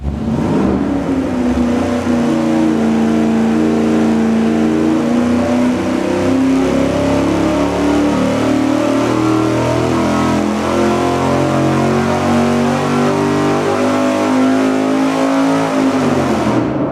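A V8 engine with no carburetor spacer runs on a dyno, holding a loud, steady roar as it pulls up through the revs for a long sustained stretch before the note drops away at the end.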